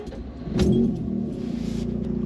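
A Mazda RX-8 (SE3P) rotary engine cranks and catches, with a sharp burst as it fires followed by a steady low idle hum, close and fairly loud with no talking.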